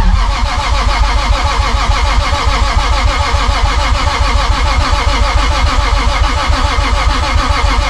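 A 1000cc motorbike engine with modified camshafts starts up and settles into a loud, lumpy, rough idle with a steady pulsing rhythm, close and continuous throughout.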